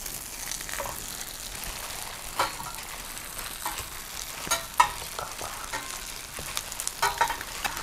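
Sesame-coated banana flower patties fry in a pan with a steady, even sizzle, a few soft taps and shifts rising above it, close and moderately loud with no talking.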